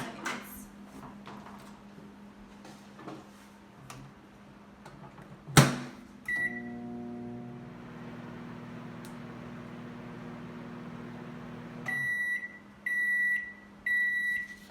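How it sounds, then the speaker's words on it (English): A microwave oven hums steadily as it heats M&M candies on a paper plate, with a sharp clunk partway through and a series of loud electronic beeps near the end. "placing our paper plate into the microwave for 30 seconds"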